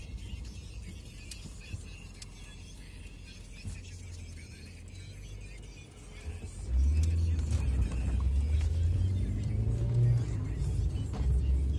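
A car pulls away from a hotel car park in Kharkiv, its engine rumbling low and steady, then swelling louder midway as it accelerates off, with no talk over it.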